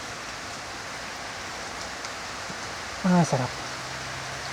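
Rain falls steadily at a mini farm as a continuous soft hiss, and a voice briefly speaks near the end.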